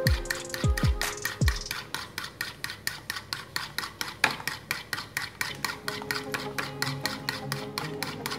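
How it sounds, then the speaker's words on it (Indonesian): A whisk beats a bread pudding mixture with condensed milk in a bowl, a steady rapid rhythm of close metallic clicking and scraping that runs the whole time without any talk. "Lalu kita kocok lagi."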